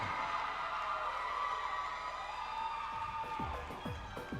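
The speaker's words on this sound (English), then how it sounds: "Another round of applause for your contestants for this year's Pageant." An audience at the Miss Galaxy Pageant 2026 cheers and applauds its contestants in a dense, continuous wash of crowd noise with scattered whoops, fading slightly near the end.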